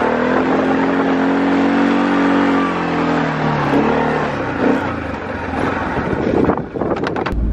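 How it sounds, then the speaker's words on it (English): A four-wheeler ATV engine runs steadily while clearing snow during a blizzard, a close, continuous drone with wind buffeting the microphone and rougher, uneven revving toward the end. "Now I'm going to clear it with a four-wheeler."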